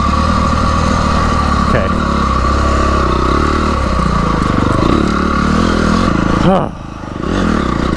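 Trail motorcycle engine running steadily and close throughout, with clattering and scraping of riding over rough ground; a brief dip near the end as the engine eases off, and a few short spoken words over it.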